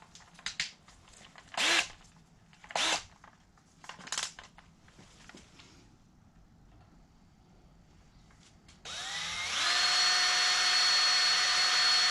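Power drill boring a 5/32-inch pilot hole for a jiffy stand extension on a 2008 Harley-Davidson Sportster 883 Custom, beginning with a few short bursts and then running steadily with a loud high whine until the end.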